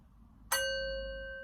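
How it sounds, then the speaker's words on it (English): A single small bell is struck once to close a Reiki healing session, a clear bright ding that rings on with a slowly fading tone in a quiet room. "I ring the bell"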